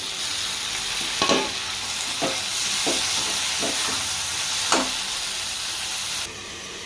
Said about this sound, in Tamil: இப்போ நம்ம நறுக்கி வச்ச தக்காளிக்கு சேர்த்துக்கலாம்.